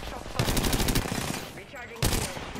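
Bursts of automatic gunfire from the Apex Legends video game, a rapid run of shots in the first second followed by a second loud burst near the end, dense and close with game noise between.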